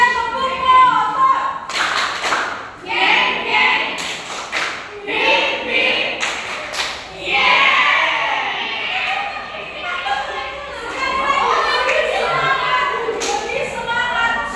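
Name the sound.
class clapping hands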